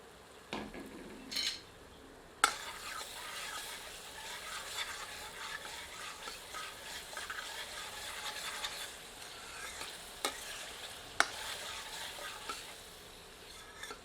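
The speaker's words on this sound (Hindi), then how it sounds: "बीच बीच में करछी चलाते रहते हैं।" A ladle stirs bottle gourd kofta curry simmering covered on low heat in a pot, giving soft scraping and gentle sizzling with a few sharp clinks of metal on the pan, steady and close.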